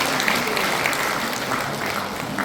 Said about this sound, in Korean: 큰 박수로 하답을 해주시기 바랍니다.